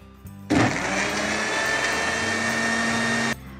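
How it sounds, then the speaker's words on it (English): A kitchen blender whirs cashews and dates in one short, loud burst of about three seconds, starting abruptly and cutting off cleanly, with a steady high motor whine and grinding churn between quieter pauses. "we're just going to give a quick little whiz in the blender"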